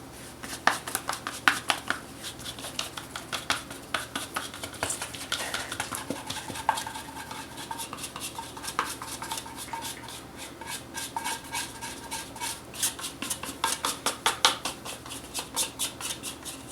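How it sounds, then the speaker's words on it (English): A plastic bowl scraper drags and scrapes sticky sourdough out of a bowl onto a floured surface, making repeated soft scraping and clicking strokes close up, with no talking. "And then I'm going to use my bowl scraper"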